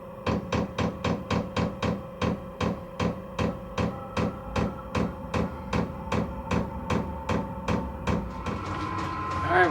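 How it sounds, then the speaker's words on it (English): Diesel heater's small fuel pump ticking in a steady, regular rhythm of sharp metallic clicks, close and distinct over a low running hum inside a shed. "You guys can probably hear the little fuel pump dinging away."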